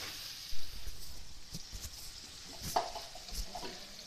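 Mutton liver (kaleji) frying in a pan as masala kaleji, with a low steady sizzle and scattered scraping stir strokes, fairly quiet and close, no talking.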